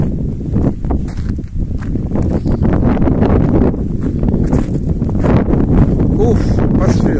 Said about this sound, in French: Pas sûr qu'il y ait moins de vent par là. C'est pire même.